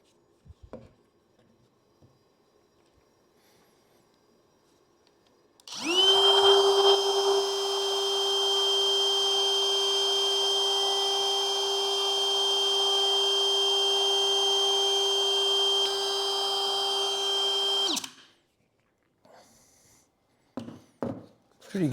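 A hand-held wood router carves a wooden sign, a loud sustained whine with a steady pitch that runs for about twelve seconds before cutting off, with faint taps around it.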